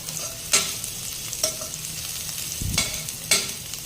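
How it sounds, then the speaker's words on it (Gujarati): Garlic and ginger pieces sizzle steadily while being sautéed for veg Hakka noodles, a continuous hiss broken by several sharp scraping stir strokes against the pan. "લસણ થોડું તતડે એટલે આપણે તેમાં આદુના ટુકડા પણ નાખી દઈશું થોડું સાંતળી લઈશું"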